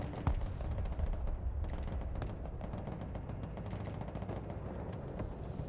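Dense gunfire in the military video game Broken Arrow, with continuous overlapping bursts and heavy rumbling fire forming a loud, sustained barrage of battle noise.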